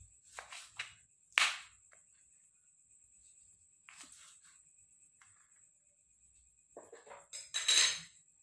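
A metal cooking pot is handled and set down in a kitchen, giving a few sharp clanks and scrapes separated by quiet gaps, close and moderately loud.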